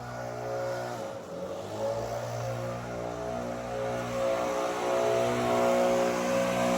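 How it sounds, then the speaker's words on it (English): A leaf blower runs loudly and steadily while clearing out the garage of a Meadowlark Big Sky Rancher log home, a constant droning roar with slight swells in pitch and no voices. "He's blowing out the garage."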